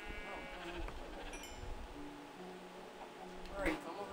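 Sheep bleat in a video game, a few short calls set behind a player talking, with other game effects and a brief louder burst near the end.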